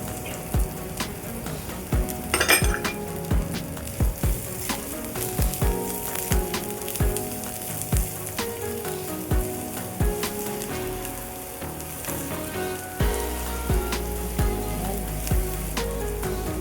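Onions sizzle in a pan for pork steak with a continuous crackling hiss and scattered pops, steady and fairly close throughout, with a low rumble entering near the end.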